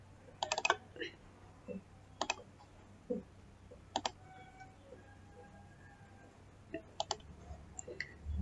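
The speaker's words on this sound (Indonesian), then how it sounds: "kita pilih gambarnya, lalu kita klik 2 kali untuk lebih cepat" Computer mouse clicks while selecting images in a Wordwall learning-game tutorial, sounding as sharp, close, isolated clicks and quick double clicks scattered across a quiet background with a faint steady hum.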